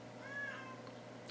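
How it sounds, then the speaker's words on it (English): A soft, drawn-out cat meow rises and fades over a steady background hum, followed by a couple of brief faint clicks. "for some reason the cat's meowing his head off."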